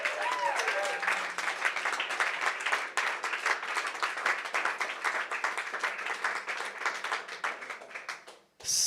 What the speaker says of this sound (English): So another round of applause.